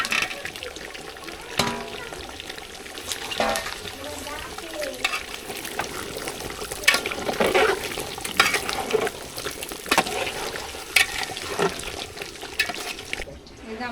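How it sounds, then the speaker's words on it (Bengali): Fried potatoes stirred into chicken cooking in a pan, with repeated scraping and clattering strokes over a steady sizzle, close and moderately loud throughout. "এবারে ভেজে রাখা আলুগুলো দিয়ে দেবো।"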